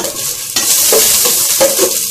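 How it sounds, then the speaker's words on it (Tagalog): Onion hitting hot oil in a thin casserole pot for chicken sopas, bursting into a loud, close, continuous sizzle after a quieter start, with stirring scrapes and no talk. "lalagyan ko muna siya ng onion."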